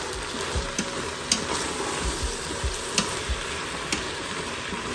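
Masala and vegetables fry in an Instant Pot, giving a steady close sizzle with a few sharp clicks and scrapes of stirring scattered throughout, with no voices.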